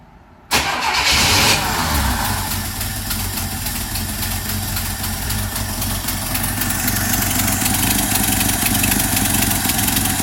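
A 1963 Chevy Nova's 194 inline-six cranks and catches on its first fire, then settles into a steady, loud, close idle with a slightly uneven exhaust note.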